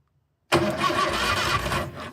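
A long-neglected Morris Minor ute engine suddenly cranks and tries to fire, a loud close mechanical churning that starts abruptly after silence and runs for under two seconds before fading.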